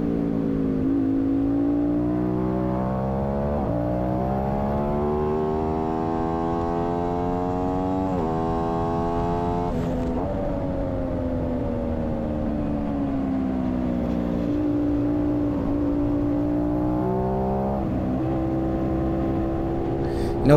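Aprilia Tuono 660 Factory motorcycle engine pulling hard in second gear on a race track at a CVMA race, a loud continuous rising whine with repeated climbs in pitch and sharp shifts, close and alone.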